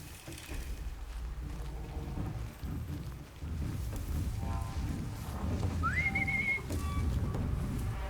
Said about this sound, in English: Barely close enough for it to hear the whistle.